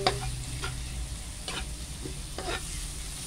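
String beans with eggs and chilli stirred in a frying pan, steady close sizzling with a few scraping strokes of the utensil at roughly regular intervals.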